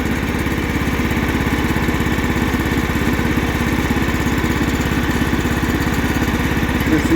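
A John Deere L110 lawn tractor engine, after sitting for ten years, runs steadily at a low, even idle with a rapid throbbing pulse and mechanical clatter, loud and close throughout.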